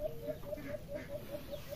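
A mother hen clucking softly with her newly hatched chicks, a quick regular series of short, faint clucks repeating about every quarter second, heard close against a quiet background.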